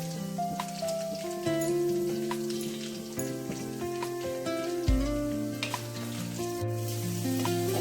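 Garlic, green chilies and curry leaves fry in hot oil, giving a steady soft sizzle with occasional stirring clinks from a pan, quiet and close, with no talking.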